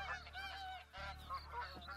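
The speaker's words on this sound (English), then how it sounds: "I can't see the geese. They are like just behind these bushes." Geese hidden behind bushes honk during a bow hunt in theHunter: Call of the Wild. Repeated honks overlap in a continuous nearby chorus, with no talking.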